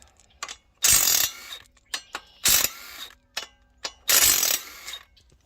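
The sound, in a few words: socket ratchet removing bolts on LS engine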